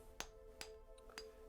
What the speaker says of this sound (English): Use the hammer and chisel.